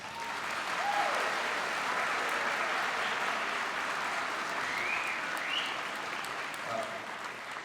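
Sustained applause from a concert audience at a school district honor bands concert, dense and steady for the whole stretch, with a few faint voices and whistles rising above the clapping.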